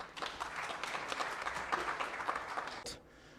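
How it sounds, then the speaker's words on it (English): Warm applause from an audience at a traditional court indaba, steady dense clapping for about three seconds that tapers off near the end. "Please give her a warm round of applause."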